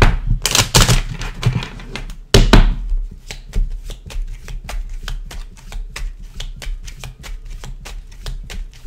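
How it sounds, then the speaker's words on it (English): Cards are shuffled by hand, starting with a couple of louder riffling bursts, then a quick run of crisp, evenly spaced snaps and taps close to the listener. "One more shuffle"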